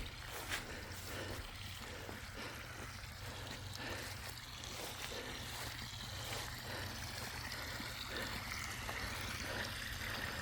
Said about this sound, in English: running water like crazy